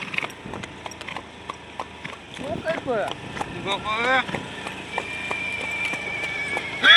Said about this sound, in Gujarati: જો ઘોડો આગળ ઊભો છે।